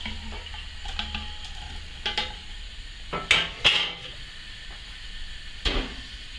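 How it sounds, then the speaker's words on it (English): Sauce being strained from a pan while cooking woodcock, with quiet liquid trickling and a series of close metallic clinks and clatters of pans and utensils scattered throughout, with no talking. "I'm just going to strain the contents of that pan in there"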